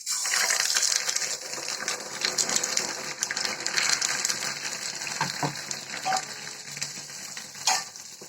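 Pua pitha batter sweetened with date palm jaggery fries in very hot oil, giving a steady, close sizzle and bubbling hiss with a few small clinks and stirring sounds along the way.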